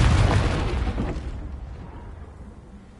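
The Confringo explosive spell bursts in a video game as a single loud, close explosion with a deep boom that decays steadily over a few seconds into a low rumble.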